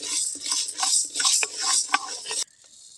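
A utensil stirs dried chillies and lentils dry-roasting in a pan, giving a close, rattling, scraping patter of rustling grains against metal for over two seconds before it stops abruptly.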